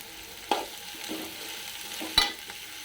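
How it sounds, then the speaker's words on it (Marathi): Onion stirred with turmeric as it fries in a pan, a soft sizzle under two distinct scraping stirs, quiet and close with no talk. "आपल्याला भाजून घ्यायचा चांगला कांदा आता थोडीशी हळद पण टाकायची आपल्याला"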